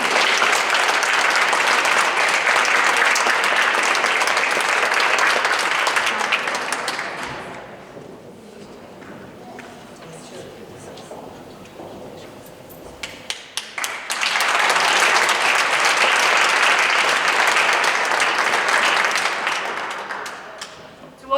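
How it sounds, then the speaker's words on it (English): Audience at the Women Economic Forum in Slovenia, 2020, clapping in two long loud waves of dense applause separated by a quieter stretch of scattered claps and murmur in the middle. "The audience who's clapping, I just want to tell you the benefits of clapping."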